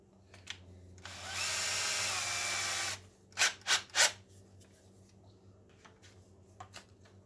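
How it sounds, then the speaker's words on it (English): A small drill bit bores into a Newport Vessels boat battery box, a steady whirring burst of about two seconds followed by three short, sharp bursts, all close and fairly loud with quiet gaps between. "Find out what I do with my little drill bit."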